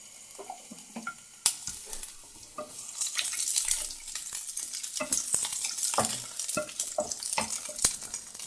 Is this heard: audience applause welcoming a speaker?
no